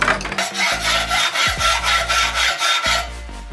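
A file is drawn back and forth across a motorcycle silencer, giving loud, close, rhythmic rasping strokes, about a dozen in quick succession with metallic scraping.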